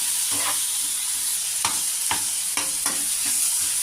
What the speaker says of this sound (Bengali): এবার আমি এর মধ্যে টমেটো কুচিগুলো দিয়ে দেবো টমেটোটা একটু নরম হয়ে আসলে আমি মশলা দিয়ে দেবো